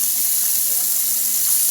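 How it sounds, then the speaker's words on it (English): Very hot water pouring steadily down a sink drain that had been clogged with hair, a loud, close, continuous hissing rush with no break across the whole stretch. "Put super hot water and see if it goes better."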